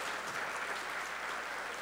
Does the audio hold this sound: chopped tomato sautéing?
no